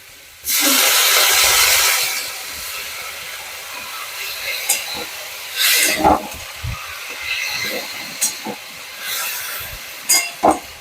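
Water poured into a hot pan of cooking vegetable curry bursts into a loud steamy hiss for over a second, then settles into scattered sizzles and a few clattering knocks nearby.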